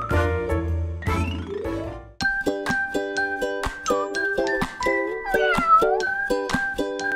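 A kitten meows in several rising, sweeping cries close by, over a bright jingling, tinkling background.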